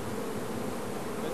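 Honeybees swarming around hives at an Australian beekeeping site, a dense, continuous buzzing drone of many insects close by, steady throughout with no other sound on top.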